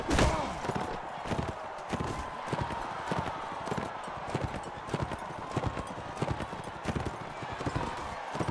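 A horse gallops in the medieval combat game Mount and Blade Warband, rapid rhythmic clip-clop hoofbeats running steadily throughout, with occasional sharp impacts and faint combat noise behind.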